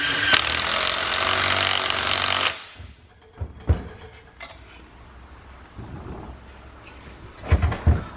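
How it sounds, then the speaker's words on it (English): A power tool wire wheel scrubs the flanges of a 6.0 Powerstroke turbo, a loud continuous whirring grind for the first few seconds before it cuts off, followed by scattered faint clanks and knocks. "I like to take a wire wheel and clean up these flanges too."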